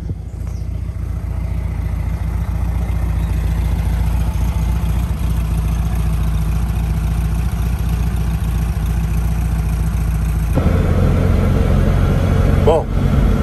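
A VW Fusca (Beetle) with a 46 HP engine drones steadily on a drive, with a low, even engine hum throughout and a shift in tone near the end.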